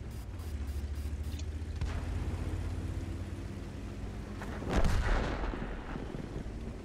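Tank cannon firing in World of Tanks, a captured King Tiger facing a VK: one heavy, booming shot near the middle, set against steady low engine rumble and battle ambience.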